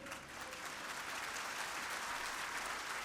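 A crowd at a Hindi spiritual talk claps steadily for about three seconds, a dense, even wash of many hands that is moderately loud, with no voices over it.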